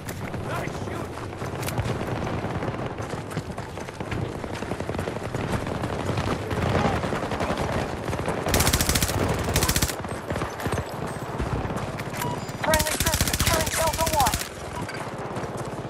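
Sustained gunfire in a Battlefield match on the Caspian Border map, dense automatic bursts running throughout with louder, sharper volleys near the end, under occasional game voice callouts.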